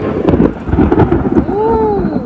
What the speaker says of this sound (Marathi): ओ भाई साहब, वीज चमकली आता इकडे मस्त